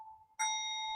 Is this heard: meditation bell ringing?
yes